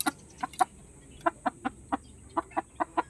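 A young gamecock stag gives a series of sharp, evenly spaced clucks, about a dozen short calls over a few seconds, close and clear against a quiet background as it is handled out of its cage.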